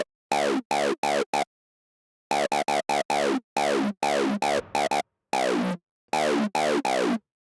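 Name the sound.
synthesized acid sound in FL Studio Patcher with transient processor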